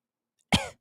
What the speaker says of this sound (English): turn your head turn and cough